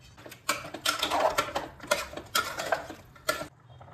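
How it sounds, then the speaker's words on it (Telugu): Cardamom pods, black peppercorns and cloves dry-roasting in a pan with no oil, giving a close run of irregular rattles, scrapes and clinks from stirring, loud and alone. "నూనె లేకుండా 10 నుండి 15 నిమిషాల పాటు దీన్ని వేయించుకోవాలి."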